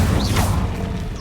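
A quick magical Incendio fire spell in Hogwarts Legacy bursts out with a rushing whoosh and crackling flare, one short, loud blast that fades fast.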